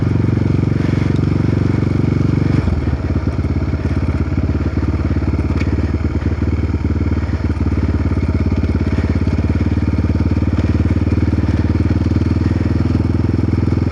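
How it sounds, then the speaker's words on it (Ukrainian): A motorcycle ridden through snow runs at steady high revs for the whole stretch as its wheel spins and slips under throttle, with a loud, constant engine roar close to the microphone and crackling texture throughout. "Коли газу даю, мотоцикл просто прошліфовується."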